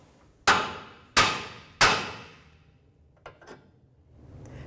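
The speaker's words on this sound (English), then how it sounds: "Now we're going to take a hammer, tap right here on that knuckle" Three sharp metallic hammer blows land at an even pace on a 2011-2014 Hyundai Sonata steering knuckle, each ringing briefly, followed by a couple of faint knocks.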